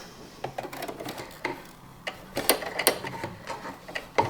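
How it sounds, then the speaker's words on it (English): Sewing machine hand wheel turned by hand to draw up the bobbin thread, a faint run of small irregular mechanical clicks and ticks over a few seconds, close and quiet. "you just need to wind your hand wheel down and it will bring the bobbin thread up"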